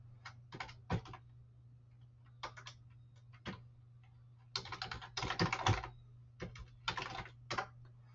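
Computer keyboard being typed on while writing Visual Basic code, quiet clicky keystrokes in short irregular bursts over a low steady hum, no talking.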